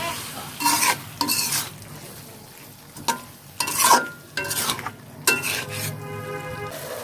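Vegetables with fresh tomato being stirred in a hot pan for a cauliflower, pumpkin bori and koi fish curry, with repeated scraping strokes over a steady close sizzle, no voices.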